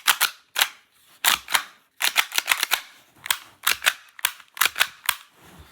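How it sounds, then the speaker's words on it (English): Tokyo Marui Glock 19 Gen3 airsoft pistol being handled as its slide goes back onto the frame: a close run of sharp plastic clicks and snaps in irregular bursts, with no talking. "Reinstall the slide on the frame."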